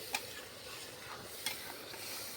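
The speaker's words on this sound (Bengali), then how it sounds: "এখন মশলাটা এখন কষাবো।" Cumin, garlic and ginger spice paste stirring and sizzling in a pan, a steady soft frying hiss broken by two sharp scrapes of the spoon, no talking.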